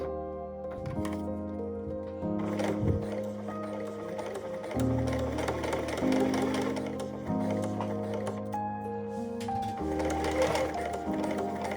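A home sewing machine stitches bra clasps and straps with metal parts, a steady mechanical whirr running in bursts of several seconds with brief pauses between runs, close and fairly loud throughout.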